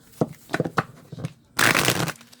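Cards riffle through a quick shuffle, a dense rapid flutter following a few soft taps and handling sounds, close up.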